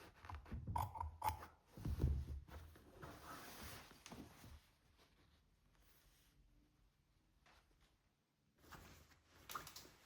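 Fabric shears snip excess material off the top of a blouse while a collar is being sewn on, with several close crisp cuts and rustling handling of the cloth, separated by quiet gaps.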